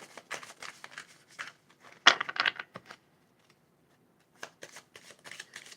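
A deck of tarot cards is shuffled up close in several quick riffling bursts, with brief pauses between them and no talking.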